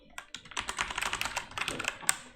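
Rapid typing on a mechanical keyboard of an old computer, a close, brisk run of sharp clicky keystrokes at an uneven rhythm, with one louder clack near the end.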